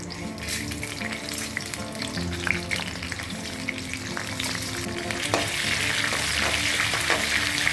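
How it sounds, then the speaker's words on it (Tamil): Curry leaves, thuthuvalai leaves and coconut slices sauté in hot sesame oil for a medicinal kuzhambu, a loud continuous sizzle with frequent scraping stirs and clinks running throughout, no talking. "நாலு கருவேப்பிலை கொத்து ஒரு பத்து தூதுவலை ரெண்டு தேங்காய் பத்தை இது எல்லாத்தையும் இப்போ நல்லெண்ணெயில் போட்டு வதக்கி எடுத்துப்போம்"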